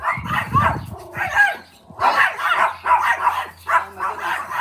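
Dog barking at a neighbour's dog, a run of loud close barks and yips in quick uneven bursts with short pauses between them.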